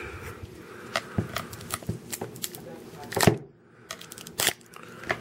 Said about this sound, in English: I'm gonna open each one and just take out the packs and open each pack.